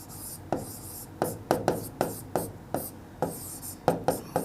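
Pen strokes scratch across paper at close range while a maths exam solution is written out by hand, with steady repeated bursts of writing separated by brief pauses.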